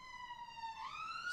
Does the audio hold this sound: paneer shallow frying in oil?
no